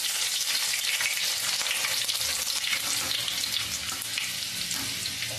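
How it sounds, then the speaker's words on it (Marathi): Garlic dropped into hot oil in a pot crackles and sizzles loudly and continuously at close range, a dense bright spitting with no speech over it. "तेलामध्ये मी सुरुवातीला लसूण टाकते"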